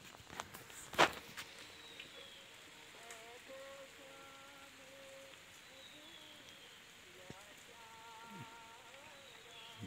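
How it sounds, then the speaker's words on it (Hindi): Light drizzle falls outdoors in rural Uttarakhand, a faint scattered patter of drops with a few sharper taps and distant bird calls in the quiet background. "बारिश की फुहार चलती हुई है।"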